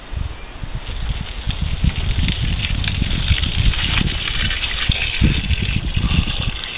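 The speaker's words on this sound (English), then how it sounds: "So now I'm going to fill it with water." Water gushes steadily into a container for making fish emulsion fertilizer, a loud, continuous rushing and churning pour close by that lasts throughout, with no talking.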